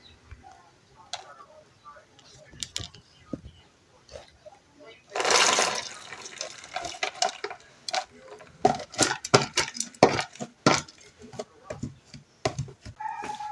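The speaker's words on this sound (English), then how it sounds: "I'm gonna rinse this off and then add them to the pot." Soaked peas are rinsed under running water in a home kitchen, giving a splashing gush of a second or so followed by clattering taps of a pot and utensils, with occasional talk.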